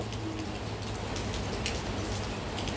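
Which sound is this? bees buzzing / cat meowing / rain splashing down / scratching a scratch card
rain splashing down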